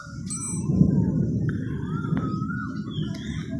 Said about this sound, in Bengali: আর শুনতে পাচ্ছো কীরকম মেঘ গর্জন করছে